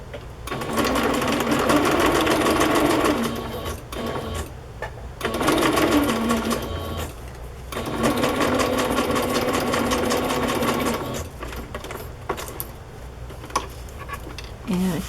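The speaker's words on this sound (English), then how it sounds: "I'll just sew it down there." Sewing machine stitching lace onto fabric, running in three or four loud sustained bursts of rapid rhythmic clatter separated by short pauses, with talk in between.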